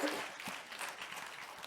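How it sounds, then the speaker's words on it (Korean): Applause from a church congregation during a service, a steady wash of many hands clapping at moderate volume throughout the short stretch, with no clear voices on top. "박수로 격려해 주시기 바랍니다."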